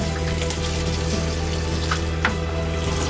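Water runs steadily from a shower outlet during the de-winterizing of an Alto 1743 trailer, a continuous hiss and splash with a low pump hum underneath, moderately loud and unbroken, with no voices.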